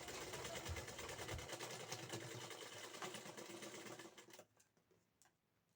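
A sewing machine runs a double line of stitching along a blouse hem, a steady loud mechanical whir for about four seconds that then stops, leaving quiet room noise.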